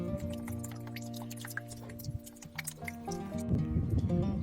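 Irregular drips and small splashes of water draining from an ambulance's sliding door into a bucket, close up, over a low humming tone.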